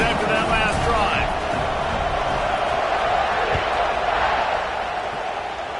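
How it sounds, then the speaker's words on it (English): A stadium crowd in a college football video game roars in a steady, loud wash of cheering that fades slightly at the end, with a commentator talking over it. "this crowd is feeling themselves after that last drive"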